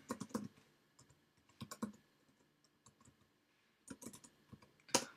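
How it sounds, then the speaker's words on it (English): Code is typed on a computer keyboard in bursts of quick, close key clicks separated by short pauses, ending in a sharper final keystroke. "So I simply quickly type that out."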